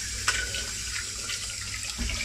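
Cold water runs from a kitchen tap into a pan of hot cooked eggs, a steady broadband rushing splash with a brief sharper spatter near the start, heard alone without talk.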